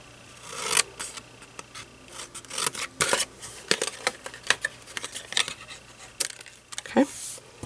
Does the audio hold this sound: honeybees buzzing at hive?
no